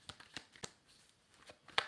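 Tarot cards being shuffled in a few quick, crisp riffles and taps, close and moderately quiet, ending in a sharper snap, with no talking.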